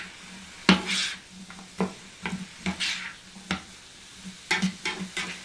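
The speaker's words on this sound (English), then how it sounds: "So we'll go ahead and stir this up a bit." Onions cooked with sriracha being stirred in a pan, quiet scraping strokes in an irregular rhythm over a soft, low sizzle, fairly close.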